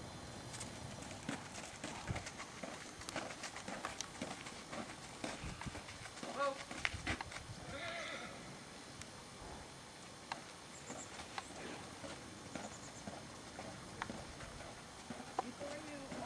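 The hooves of a Morgan mare walking down a driveway give an uneven clip-clop of steps, fairly faint, with some scuffing and shuffling. A person talks at times over the hoofbeats.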